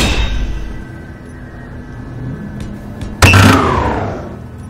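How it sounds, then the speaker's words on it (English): Space Engineers assemblers in a video game all firing at once, heard as a sudden loud broadband burst with a low thud that slowly fades out, following a steady background hum and a couple of faint brief clicks. "That's all the assemblers firing at once to make a couple of parts."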